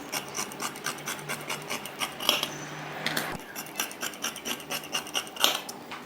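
Scissors cut chudidhar fabric in a regular rhythm of close, rasping snips with some rustling of cloth on a table, steady throughout and without voices.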